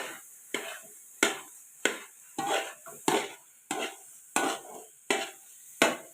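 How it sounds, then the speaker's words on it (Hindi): A spoon works carrot and cheese halwa in a pan with regular strokes, each a soft scrape-and-thud repeating about every half second, close and quiet. "इस डायरेक्शन में पहले आप चम्मच चलाएंगे"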